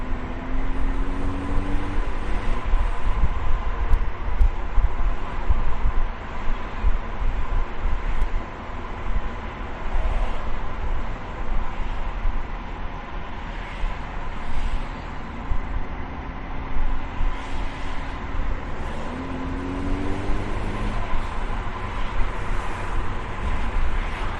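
A car with a DCT gearbox and reduced launch torque struggles to pull away, then accelerates and shifts. A steady engine and road roar runs throughout, with rising pitch sweeps as it climbs through the gears and no talk.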